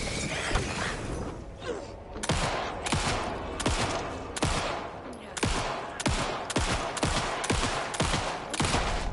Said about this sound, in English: Nail the headshots and then just start mag dumping them in the face